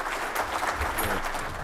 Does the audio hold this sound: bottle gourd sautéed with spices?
no